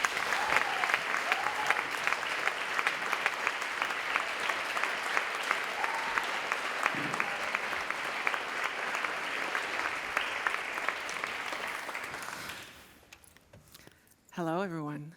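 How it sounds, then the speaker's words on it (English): Audience applause welcoming speakers at a book event, a long steady wash of clapping from a large crowd that fades out, followed by a voice speaking. "Give them a big applause."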